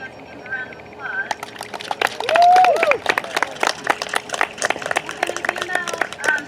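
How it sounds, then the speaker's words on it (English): A crowd at a high school cross-country banquet applauds its seniors with dense, continuous clapping. Voices and cheers are mixed in, along with a brief whistle-like tone. "You guys can give them a round of applause."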